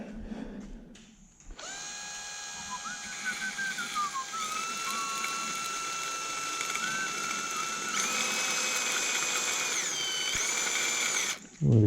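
An old bench grinder converted into a tool files piston rings for a 2.5L supercharged engine, giving a loud, steady, high whining tone with shifting pitch as metal is pressed to it, close up and sustained for several seconds.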